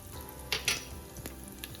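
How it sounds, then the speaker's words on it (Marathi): Mustard seeds, cumin and urad dal crackle and sizzle in hot oil for a curd rice tempering, a steady close fry broken by a few sharp pops of bursting seeds. "आता मी मोहरी टाकली, जिरं आणि उडदाची डाळ"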